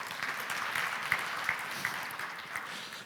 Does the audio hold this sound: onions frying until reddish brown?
no